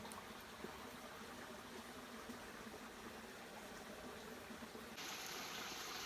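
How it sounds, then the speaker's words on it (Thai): Steady, hissing rush of a forest stream's flowing water, continuous and fairly faint throughout, with no voices. "อากาศอยู่ในป่าก็สงบดียินแต่เสียงน้ำไหลเท่านั้น"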